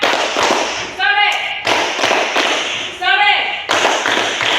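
Classroom hand-clapping pattern game: loud, sharp claps come in quick bursts at a steady rhythm, mixed with children's voices calling out in short tonal cries between the claps.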